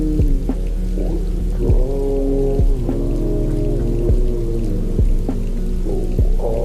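A steady rain sound effect patters under slowed, muffled, underwater-style music, with soft rhythmic thumps recurring throughout.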